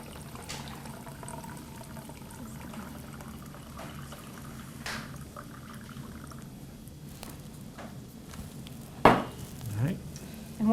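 Water, about one and a half cups, hits a hot pan in a restaurant kitchen and sizzles, with a sharp pour and hiss near the end after quiet kitchen clatter and faint stirring.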